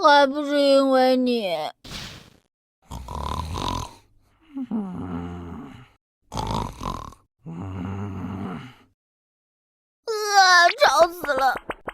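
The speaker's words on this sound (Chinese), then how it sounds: "你打呼噜那么大声" A cartoon father snores loudly in rhythmic rasping bursts, alternating with a voice and other animated speech between the snores.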